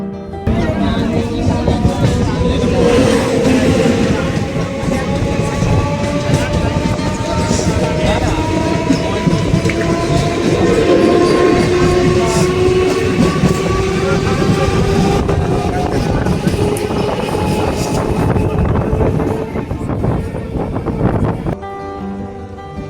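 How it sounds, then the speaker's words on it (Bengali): A passenger express between Kolkata and Murshidabad rumbles loudly along the rails with a continuous rhythmic clatter and wheel noise, steady from inside the train until it drops away abruptly at the end. "রেজিনগর পার করে ট্রেন এসে পৌঁছালো বেলডাঙা"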